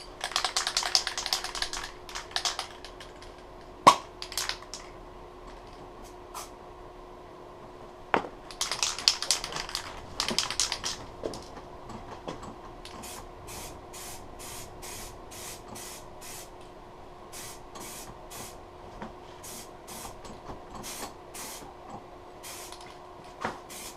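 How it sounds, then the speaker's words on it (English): Alloy wheel paint sprayed from an aerosol can during a DIY wheel refurbishment, short hissing bursts repeating in quick succession among scattered clicks and handling noises, fairly faint. "now we're moving on to the wheel paint alloy spray."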